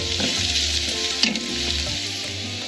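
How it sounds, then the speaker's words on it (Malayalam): A medium onion, thinly sliced lengthwise, sautéing in coconut oil for a Kerala-style meatball curry, a dense close sizzle with light stirring scrapes. "1 മീഡിയം സൈസ് സവോളയാണ് നീളത്തില് കനം കുറച്ച് അരിഞ്ഞെടുത്തിരിക്കുന്നത്. ഇത് നന്നായിട്ട് വഴറ്റണം."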